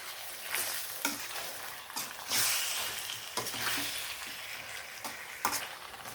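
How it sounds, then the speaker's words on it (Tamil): Chicken varuval stirred in a frying pan, a steady sizzle with repeated scraping strokes of the spoon at close range, no voices. "நல்லா கிளறி வச்சுட்டேன்."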